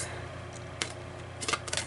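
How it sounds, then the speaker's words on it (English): Paper snips trim the edge of a sheet for a Halloween craft, making two or three brief, crisp clicking cuts over a quiet room background. "So you're gonna get out some paper snips."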